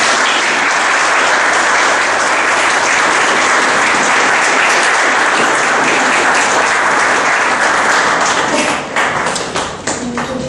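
Audience at a spiritist centre bursts into sustained, dense applause, steady and loud for about nine seconds before thinning slightly at the end.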